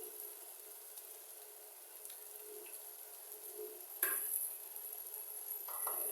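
Coriander and cumin powder fry in a pan with a steady, low sizzle and hiss. A few faint clinks and scrapes of utensil on metal come through, and a sharper clatter lands about two-thirds of the way in.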